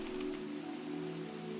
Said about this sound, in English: Let's turn the rain off.